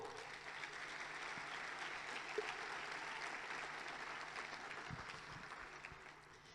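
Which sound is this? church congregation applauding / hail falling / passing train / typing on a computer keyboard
church congregation applauding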